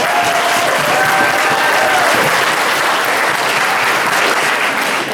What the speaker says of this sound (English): And we owe him a great round of applause